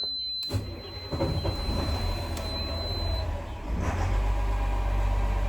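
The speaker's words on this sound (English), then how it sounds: "We're gonna start the engine." An inboard boat engine in neutral with the throttle low cranks and catches, then settles into a steady low idle rumble with a brief high electrical whine at the start, no talking.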